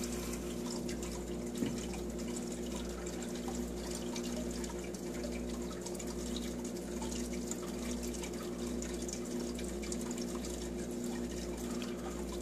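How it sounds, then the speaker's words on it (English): An aquaponics fish tank siphon drains and breaks, giving a faint, steady gurgle of water over a low pump hum, with one small splash or click early on. "I don't know if you heard that gurgling, but that was the siphon breaking"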